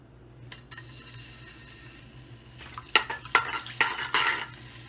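Cooking in a pot: a soft stirring scrape, then a burst of loud sizzling as onions drop into hot oil, with clinks of a spoon against metal.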